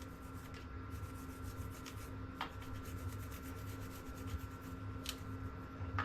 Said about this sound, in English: take my little toothbrush, and you're literally just going to scrub away